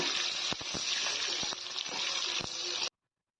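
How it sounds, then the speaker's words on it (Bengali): Jackfruit chunks and potatoes frying in a pan, a steady broadband sizzle with sharp clicks of a stirring spoon scraping the pan, continuous and close until it cuts off abruptly. "এবার কাঁঠাল আলুগুলোকে একটু নেড়ে চেড়ে ভেজে নেব"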